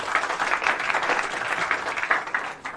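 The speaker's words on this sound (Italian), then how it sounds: "Applauso." A small group applauds in an indoor room, a short burst of moderate, uneven clapping close by, lasting a few seconds with no talk over it.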